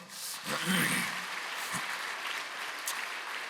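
Moderate applause from a church congregation during a Sunday sermon, steady clapping throughout with a few brief voices near the start.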